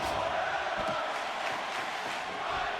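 Spectators at a professional wrestling show roar and cheer in a sustained, fairly distant wash of crowd noise.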